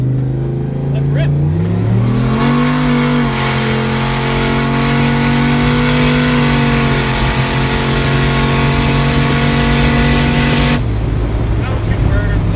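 A boosted farm drag truck, a Canadian farm truck on CalTracs, revs up and accelerates hard, its engine note climbing in pitch and then holding a loud sustained roar before cutting off abruptly near the end.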